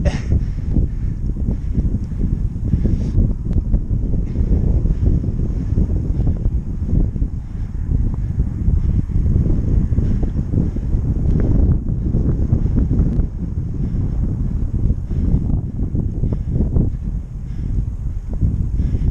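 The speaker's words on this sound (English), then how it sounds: "As you can hear, it's quite windy today." Strong wind buffets the microphone in a steady, loud, low roar throughout a bicycle climb of Box Hill, with no talking.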